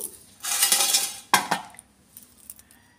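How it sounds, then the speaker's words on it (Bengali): Cut pieces of kochu nimki dough are tipped onto a metal plate, making two close bursts of rattling clatter, a longer pour followed by a short second tip, then a few faint settling clinks. "এবার এগুলো থালায় ঢেলে নেব।"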